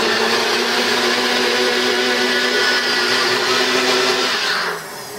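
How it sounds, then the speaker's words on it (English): A blender whirs steadily as it purées tomatoes, a loud, continuous close-up motor roar that holds for several seconds and then drops away sharply as it switches off. "Just going to blend the tomato."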